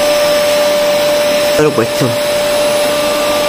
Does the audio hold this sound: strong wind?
no